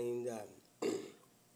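A man clears his throat twice while recovering from a viral, allergic flu, a voiced rasp followed by a sharper, brief guttural scrape, close and fairly quiet.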